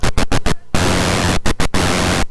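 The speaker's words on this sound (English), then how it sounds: "It sounds like distortion. It's really, really aggressive." Harsh, fuzzy distorted analog synthesizer noise from an Analogue Solutions Cranial Saw, chopped into rapid stuttering bursts with brief silent gaps, loud and abrasive.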